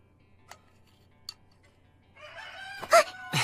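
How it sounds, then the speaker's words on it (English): A rooster crows in a country setting, its harmonic call starting after two faint ticks and ending in loud bursts, heard alone without talk. "That's a rooster."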